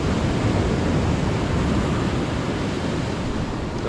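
A 1.5-metre ocean swell breaks onto a sandy fishing beach in a continuous loud, broadband wash of surf, with no distinct individual waves standing out and no talking.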